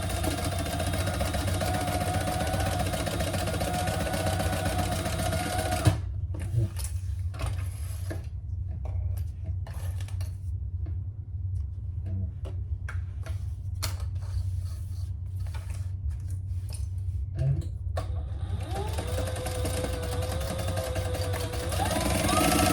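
A sewing machine stitches down the sides of a slip pocket, running steadily with a rhythmic mechanical whir, stopping briefly into stuttering clicks and short bursts before resuming a continuous hum.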